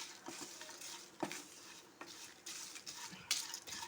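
Pappadam pieces being stirred and tossed with onion and chilli in a pan for a Kerala-style mezhukkupuratti, with scattered scraping and clinking of a utensil against the pan over a faint, steady background hiss.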